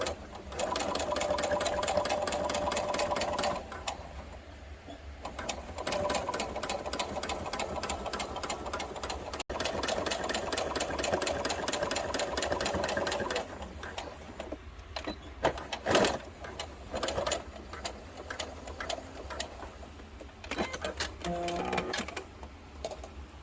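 A sewing machine stitches a dress sleeve with a ribbon attached, rapid close needle chatter running in several bursts with short pauses and handling noises between them, no talking.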